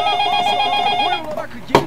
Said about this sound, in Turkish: bu sefer de telefon çaldı